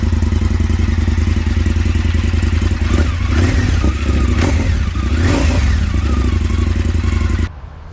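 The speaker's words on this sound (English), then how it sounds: "the bike sounds, breathes and runs a lot better than it did from factory" A 2020 Indian FTR Carbon motorcycle with a catalytic converter and muffler in its exhaust runs close by, a loud continuous engine throb with a couple of rev swells that cuts off abruptly at the end.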